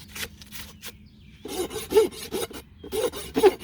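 A hand rasp files and bevels the edge of a horse's hoof in rough scraping strokes, a few quick ones and then a closely spaced run of louder rasps, with no talking.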